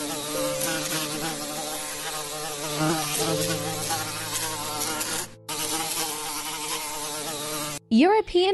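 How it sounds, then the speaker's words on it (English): An African ice bee buzzes in a continuous, close, droning whine that wavers slightly in pitch for several seconds, with a brief gap partway through and a different sharp chirping sound at the very end. "African ice bee."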